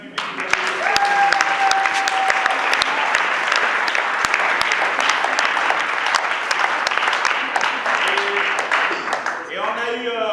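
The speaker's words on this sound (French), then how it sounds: "applaudissez pour vous-même public." A theatre audience gives a long, steady round of applause after a stage play, dense clapping throughout with a faint tone and some voices underneath.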